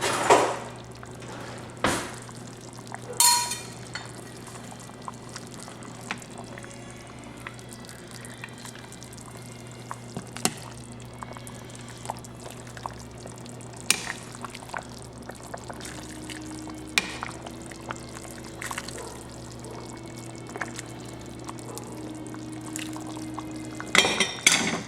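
Homemade old-fashioned vegetable beef soup being ladled from a pot into a bowl, with steady close pouring and splashing broken by occasional sharp clinks of the ladle, and no talking.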